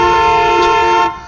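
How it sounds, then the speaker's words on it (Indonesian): A car horn blares in one loud, sustained honk lasting about a second before cutting off sharply. "dia memencet klakson mobilnya"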